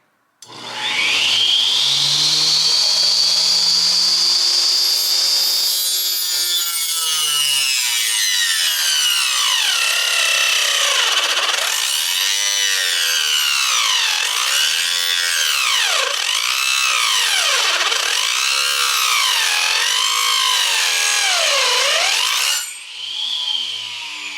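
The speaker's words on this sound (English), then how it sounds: "So I bought this little mini, it's called the Mighty Mini Table Saw from Harbor Freight" A Harbor Freight Mighty Mini table saw whines at high pitch as it bites into wood, the blade pitch swooping up and down with each push through the cut, loud and close.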